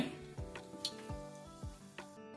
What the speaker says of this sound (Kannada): ಈಗ ಒಂದು ಸ್ಪೂನು ಆಯಿಲ್ ಹಾಕೋತೀನಿ ಒಂದು ಕಾಲ್ ಟೀ ಸ್ಪೂನು ಸಾಸಿವೆ ಹಾಕ್ಕೊತೀನಿ